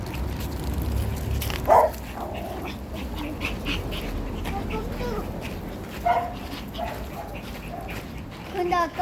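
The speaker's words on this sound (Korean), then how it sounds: "여기서 강아지 소리요" A puppy gives a few short yips and thin whimpers during a walk, spaced apart over a steady background, with a person talking nearby.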